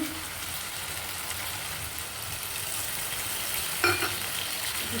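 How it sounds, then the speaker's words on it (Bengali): Chicken stock going into a hot pan of sizzling food while it is stirred, a steady bright frying hiss throughout with a short clatter of utensil near the end, close and fairly quiet. "এবার চিকেন স্টকটা দিয়ে দিচ্ছি"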